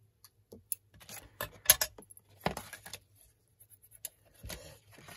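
Scissors snip away overhanging bits of craft paper while a pencil box is being made, giving a string of short, crisp cuts and light paper rustles, close up and irregularly spaced with brief pauses.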